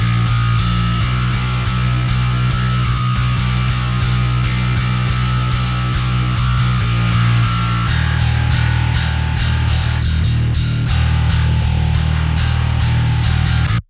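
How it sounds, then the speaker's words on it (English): An electric guitar played through a Distressor compressor and Parallax high distortion produces a thick, sustained, heavily distorted tone, the chords shifting partway through. "that high distortion's really pulling its weight in this tone"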